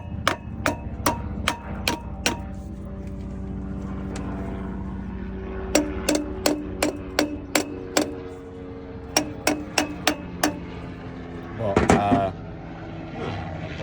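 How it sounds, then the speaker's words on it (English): Repeated sharp metallic taps of a hammer against the side of a stuck carburettor on a Land Rover Lightweight, struck in quick bursts of four to six blows with pauses, over a steady engine or machine hum. "just give the side of the carb a tap with a hammer"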